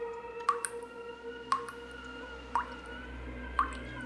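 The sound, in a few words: dripping water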